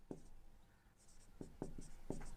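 Chalk or marker taps and scratches across a classroom board in short bursts, a few quick strokes spaced irregularly, close and fairly quiet with no talking.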